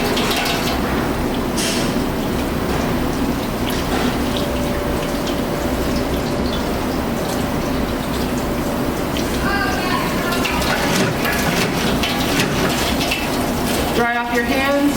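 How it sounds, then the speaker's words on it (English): Tap water runs steadily from a faucet as hands are washed, a continuous rushing splash with brief rubbing sounds, while a person talks over it. "So when you're washing your hands, you want to make sure that you're scrubbing for 10 to 15 seconds in between your fingers"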